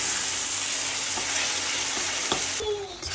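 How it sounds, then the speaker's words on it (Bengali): Pieces of latia fish sauté in a pan, giving a steady, close sizzle with scraping stirring strokes throughout, and no voices. "এই দেখো বন্ধুরা আমার লটিয়া মাছ কষানো প্রায় হয়ে গেছে, আর একটু বাকি আছে, একটু কষিয়ে নিই"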